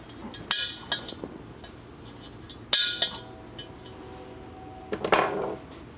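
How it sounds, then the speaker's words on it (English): A single sharp metallic strike rings out as a center punch marks a spot for installing a Monster Valve Tap2 MV-TAP2, followed by a second clear tap a couple of seconds later, then a scraping sound; no talking. "Now I'm going to take my center punch. Just go right on that spot."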